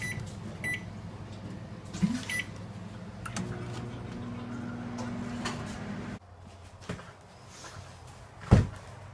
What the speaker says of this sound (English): Now the final step is just to put it in the microwave